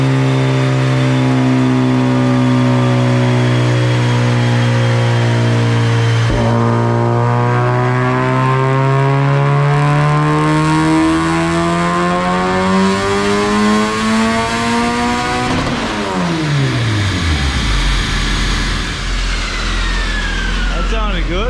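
Turbocharged D16 engine in a Honda EF hatch screaming through a full dyno pull, revs climbing steadily with rising whine and roar, then lifting off into a falling decel with popping near the end; loud and close throughout.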